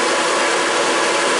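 A Scheppach 550W DC500 workshop vacuum cleaner runs steadily with a loud, even, broadband whoosh of motor and airflow, continuous and unbroken throughout.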